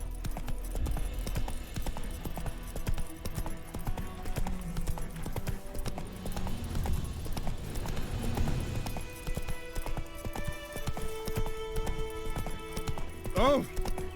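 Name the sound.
horse galloping hooves in the video game The Witcher 3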